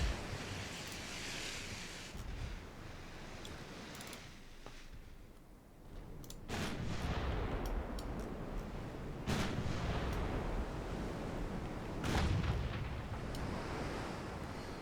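Heavy naval guns from the Japanese warship Kiso fire in a naval combat game, deep booming blasts rolling out over a constant roar of sea and wind, with several big salvos spread across the stretch and no voices.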